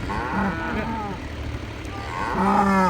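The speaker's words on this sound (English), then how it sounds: "that calf was mooing" A calf moos a couple of times, close and fairly loud, with a short pause between the calls.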